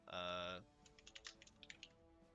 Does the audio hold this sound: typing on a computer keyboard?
yes